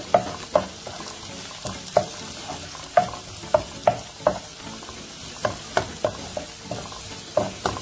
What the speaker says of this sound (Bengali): পেঁয়াজটা কিন্তু একটু ভাজা ভাজা হয়ে আসছে